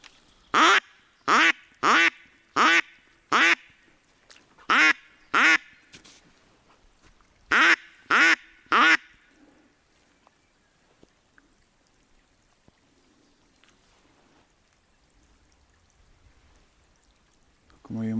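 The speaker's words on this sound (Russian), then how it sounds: "К моему шалашу летели крупные утки. Это шилохвосты, похожи на то." Northern pintail ducks quack loudly and close in a series of about eleven evenly spaced calls grouped in short bursts, then near silence with faint rustles. The setting is a duck hunt near a hide by a river.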